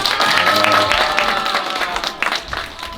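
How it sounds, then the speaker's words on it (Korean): Applause from a youth congregation at a church service, a dense wash of clapping that fades out over about three seconds, with a voice heard toward the end. "박수 한번 더 크게 쳐주시다"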